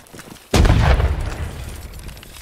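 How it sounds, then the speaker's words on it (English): A single heavy cannon blast booms from a Napoleonic-era line battle in the video game Holdfast: Nations At War, arriving with a sudden sharp onset and then rumbling out into a long, fading low tail. "Watch out for the cannon."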